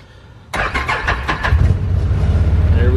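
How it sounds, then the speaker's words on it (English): A Jeep Commander cranks briefly after a quiet pause, catches with a loud rising roar, then settles into a steady close idle with no talking. "hopefully the Commander will start"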